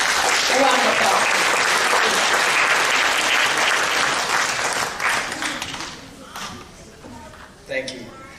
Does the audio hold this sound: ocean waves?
no